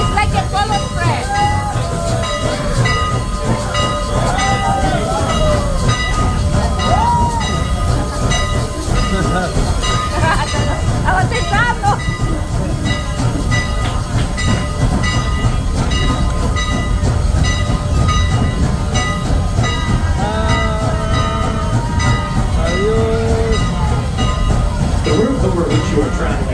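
Strasburg Railroad passenger train rolling along an old right-of-way, heard from inside a car: a constant loud rumble with rhythmic clicking of wheels on rail joints, squealing flange tones, and a conductor talking over it.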